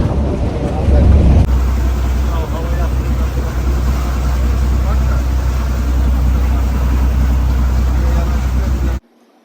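Boat ride in the Maldives, with a steady, loud engine and water rumble that carries on throughout, mixed with wind buffeting, and voices talking over it until it cuts off abruptly near the end.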